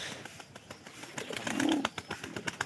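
Pigeons coo softly in a close-up pen, a low murmuring coo rising in the middle amid scattered taps and clicks of movement.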